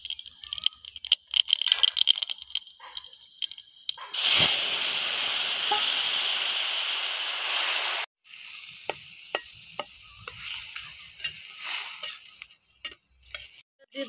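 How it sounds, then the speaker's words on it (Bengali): Black cumin seeds hit hot oil for tempering, giving a loud, steady sizzling hiss that lasts about four seconds and then cuts off, with softer clinks and stirring scrapes around it. "ফোড়নে দিয়ে দেবো কালো জিরে।"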